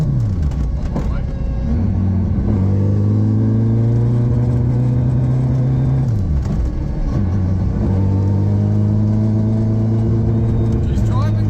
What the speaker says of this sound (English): This can't have too much throttle. Oh yeah, backfire.